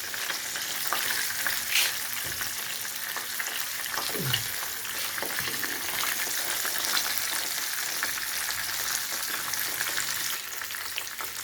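Stuffed brinjal (baingan) frying in a pan over low flame, giving a steady, close sizzle with crackling spatter throughout and a brief stir partway through.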